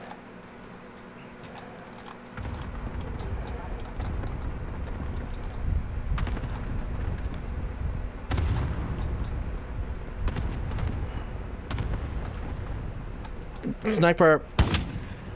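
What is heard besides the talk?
airstrike explosions in a video game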